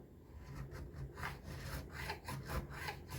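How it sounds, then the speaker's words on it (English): A file rasps back and forth along the sides of the frets of an economy Jackson guitar, a close, quiet series of rhythmic scraping strokes. "filing the sides down to get a point on it"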